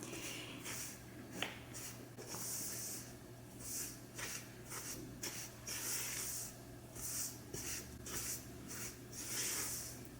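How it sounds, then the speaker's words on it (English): A spatula folds chocolate chip cookie dough in a bowl, making soft, faint, repeated scraping and squishing strokes in an irregular rhythm, close by and without talk. "I'm just gonna kind of fold everything in together here."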